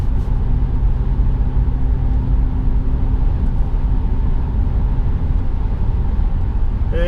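Cabin of an Infiniti G37 IPL coupe with a 6-speed manual cruising on the road, a loud steady low rumble of road and wind noise filling the interior without pause or talk.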